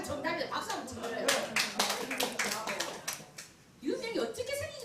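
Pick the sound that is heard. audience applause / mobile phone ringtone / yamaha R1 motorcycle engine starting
audience applause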